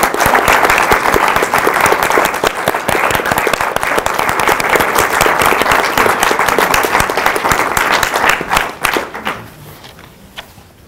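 Sustained audience applause at a University of Dubuque faculty and staff scholarship celebration, a dense, steady clapping crowd that holds for about nine seconds, then thins out and fades to scattered claps at the end.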